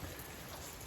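Rain falls steadily at night on a new property, a brief dense wash of even hiss with no talking.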